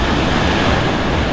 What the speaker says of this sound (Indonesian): sebelah kanan kita pantai dengan deburan ombak yang sedikit tidak begitu deras ya